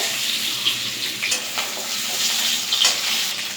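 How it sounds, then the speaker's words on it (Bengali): Boiled eggs frying in hot oil in a kadai, a bright continuous sizzle with occasional sharper pops and spatters, close up and steady. "তো ডিমগুলো খুব ভালো করে ভেজে নিতে হবে।"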